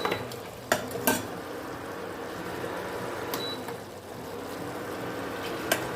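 Paneer pieces stir and fry in a pan for chilli paneer, a continuous close sizzle broken by a few sharp scrapes and clinks of the spoon against the pan.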